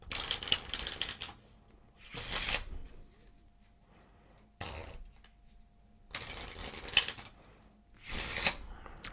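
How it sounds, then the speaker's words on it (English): Playing cards being riffle shuffled, several quick bursts of fluttering cards separated by brief pauses, close and fairly loud. "so let's give it a good shuffle"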